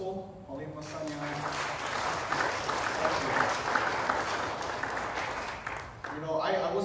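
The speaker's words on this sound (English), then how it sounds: "can we get a round of applause for our principal, Matou?" An audience applauds their principal, Matou, at a KFAST community meeting: a sustained, dense wash of clapping for several seconds, with a speaking voice audible at the start and returning as it tapers off at the end.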